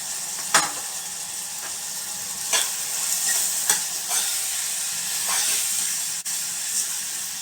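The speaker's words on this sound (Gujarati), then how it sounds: "બધા જ મસાલા જો આવી રીતે આપણે કરી અને એને તેલમાં જ થોડા ચડી લેવાના" Ground spices (turmeric, red chili powder, coriander-cumin and garam masala) sizzling steadily in hot oil while being stirred for valor dhokli, with a bright continuous hiss and a few sharp stirring clicks, close up and no talking.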